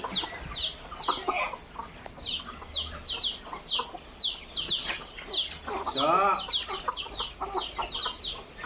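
Hens cluck repeatedly in short bursts, several birds near and farther away, with soft talk under the clucking.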